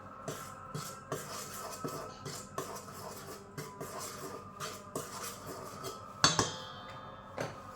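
Ingredients, including a spoonful of yeast, are mixed in a bowl, making quiet, rhythmic clinks and scrapes of a utensil against the bowl with one brighter clatter near the end.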